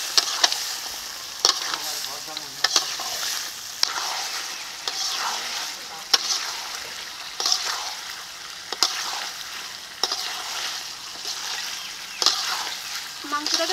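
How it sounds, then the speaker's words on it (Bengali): Duck meat and potatoes sizzle steadily in hot oil in a pan, with regular sharp clacks and scrapes of a spatula as they are stirred, close and continuous, with faint talk now and then. "এখন মাংসটাকে আবারও কিছুক্ষণ কষিয়ে নিচ্ছি।"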